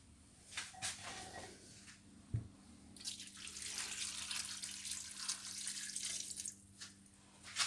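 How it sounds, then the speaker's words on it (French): Tap water running into a cooking pot holding calf's feet for a bean dish, with scattered drips and a clunk at first, then a steady splashing stream that continues to the end. "On va mettre de l'eau."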